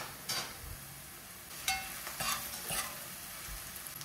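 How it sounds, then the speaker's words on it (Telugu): Onions fry in a little oil in a kadai until golden brown, a soft sizzle running underneath with a few scraping stirs of a spoon against the pan, all fairly quiet and close. "కడాయిలో కొంచెం ఆయిల్ తీసుకొని ఆనియన్స్ వేసి గోల్డెన్ బ్రౌన్ వచ్చేంత వరకు ఫ్రై చేసుకోవాలి."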